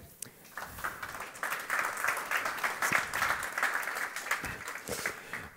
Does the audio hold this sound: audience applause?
yes